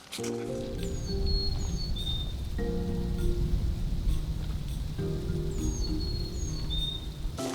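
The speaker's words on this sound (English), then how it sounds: "I love those bird sounds" Birds chirp and whistle in short rising calls over steady rain pattering on leaves in a state forest, the calls repeating in small clusters at a moderate distance, with no talk.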